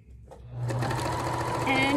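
Sewing machine stitching fabric scraps for a dish drying mat, starting up after a brief pause and then running in a steady, fast, close-up mechanical whir.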